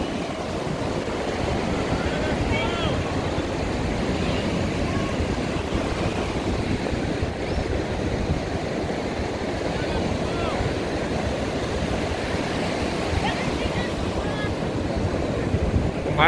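Steady surf along the beach at Balneario Camboriu, with waves washing ashore in a continuous roar mixed with wind noise, even and unbroken throughout and heard at a moderate distance.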